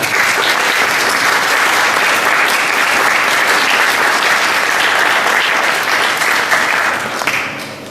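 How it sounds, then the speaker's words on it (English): Wedding guests give a loud, sustained round of applause with many hands clapping together, holding steady for several seconds before tapering off at the end. "So I'd like everyone to give them a round of applause on that moment."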